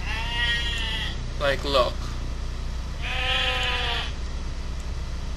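In a LOTRO game scene, several sheep bleat in long wavering cries, one near the start, a quick pair in the middle and a louder one later, while a person talks quietly over them.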